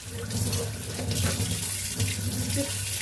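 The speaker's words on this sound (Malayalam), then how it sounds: "ഇതിനകമൊക്കെ ഇങ്ങനെ കഴുകണം" Crab being washed in a sink under a steadily running tap, with continuous splashing water close by and no talk.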